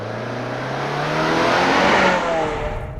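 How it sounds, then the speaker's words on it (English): A 2023 Subaru WRX SPT with a CVT launches on gravel without brake boost, its engine note climbing in a steady, loud rise with a brief swell midway as the simulated shifts come through, with no talking. "Gravel launch. No brake boost, so we can hear the CVT do its thing."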